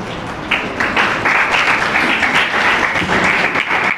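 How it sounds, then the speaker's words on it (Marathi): Sustained applause from an audience at an inter-school yoga competition gratitude ceremony, loud, steady clapping filling the whole stretch without a break. "अजून एकदा टाळ्या"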